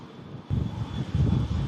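Arriving aircraft at Manchester Airport in strong wind: a low, broad engine rumble rises suddenly after a quiet start and holds steady, buffeted by gusty wind noise on the microphone, with a thin steady whine above.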